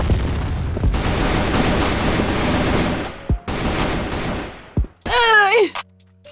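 Heavy gunfire and a grenade blast in a shooter video game, a loud continuous roar of shots and booms that breaks into a few separate thuds before a sharp squealing effect near the end.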